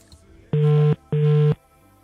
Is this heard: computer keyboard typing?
no